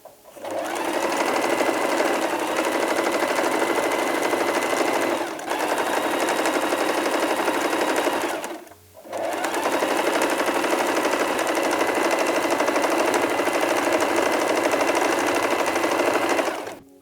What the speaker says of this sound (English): We can now sew the other edge together now.